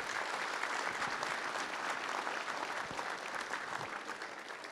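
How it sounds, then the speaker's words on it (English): Sustained applause from a seated audience at an awards luncheon fills the room, a steady dense clatter of clapping hands lasting throughout with no speech over it. "Let's have a round of applause."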